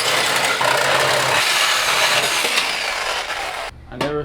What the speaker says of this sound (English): we're basically letting him run wild with his Sawzall